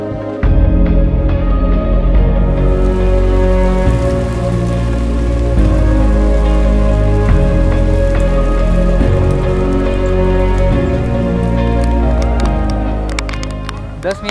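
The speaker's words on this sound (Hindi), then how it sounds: "और अभी बारिश हो रही है" Monsoon rain falls on a trek in Maharashtra, a loud, continuous hiss and patter of drops striking surfaces, with steady low rumble underneath and no break.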